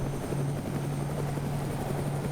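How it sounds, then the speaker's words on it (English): A buzzing helicopter rotor drone from a bugged Arma game soundscape, steady and fairly loud, with a fixed humming pitch and no voices. "my game just bugged out and made me hear a helicopter"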